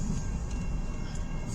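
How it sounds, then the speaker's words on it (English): A long southbound CN 383 mixed freight train with tank cars and lumber cars rumbles past at close range in Richmond, Michigan, a steady loud roar of wheels and cars with no talk. "That's a big train."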